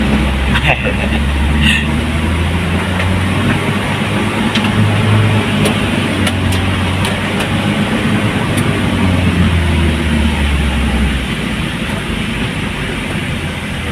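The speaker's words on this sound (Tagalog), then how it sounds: "Ang traffic na talaga." Heavy Saturday road traffic rumbles steadily with continuous engine drone and low vehicle noise, dense and close throughout, with a few faint higher clicks and tones on top.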